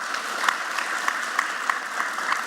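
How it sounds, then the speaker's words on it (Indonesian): Studio audience applause on an Indonesian talk show about plastic surgery, an even, moderate patter of clapping with soft rhythmic accents, no voices over it. "beri tepuk tangan"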